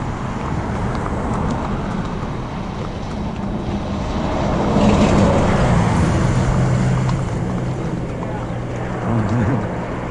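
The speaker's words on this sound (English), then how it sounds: "Christian and I brace ourselves for the speeding traffic." Fast road traffic passes close on a town road through Ballydehob, Ireland, while riders travel on horseback. Vehicles swell and fade over steady wind buffeting, with a louder pass midway and a voice heard briefly.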